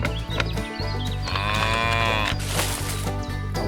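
Cows mooing near a cow barn at a construction site, with several long, loud, drawn-out moos overlapping one another in steady sequence over a constant low background hum.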